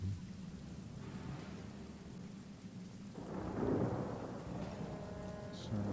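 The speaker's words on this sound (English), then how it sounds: "I'll make it rain during a snowstorm for you." Rain and thunder from a spell in the game Divinity: Original Sin: steady rainfall hisses throughout while a deep thunder rumble swells in the middle and lingers.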